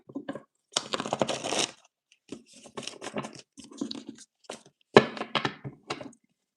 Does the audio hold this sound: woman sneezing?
no